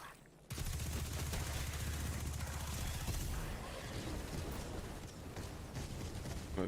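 Rapid SMG gunfire in the video game Destiny 2, a dense continuous burst of shots that starts abruptly and keeps going loud and close for several seconds, with a faint voice underneath.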